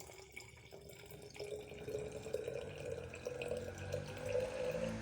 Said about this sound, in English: pour in our hot water to our water solution for mixing